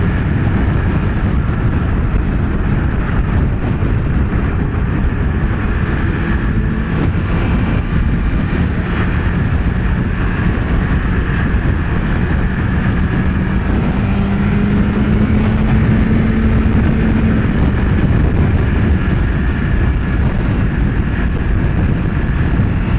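A BMW S 1000 RR sport motorcycle engine roars loud and close in one sustained, steady drone under throttle, with no voices over it.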